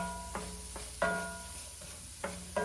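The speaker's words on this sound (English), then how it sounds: "So we're just going to saute these until they start to get soft." Vegetables sautéing for a keto Italian frittata: a soft steady sizzle in the pan, broken by several sharp clinks and scrapes of a utensil stirring against it, close and fairly quiet.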